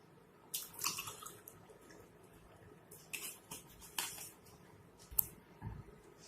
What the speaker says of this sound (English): take a glass, put some water in it